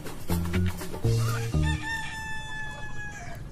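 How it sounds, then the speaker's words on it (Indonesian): A rooster crows in a drawn-out call after several loud, clucking bursts from chickens, close and clear with no talk over it. "Kayak ada ayam lagi."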